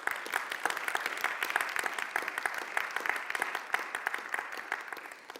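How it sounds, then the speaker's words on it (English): Sustained applause from an audience at an event in Hamburg, dense and steady clapping throughout with no talking over it. "A warm round of applause from our audience here in Hamburg."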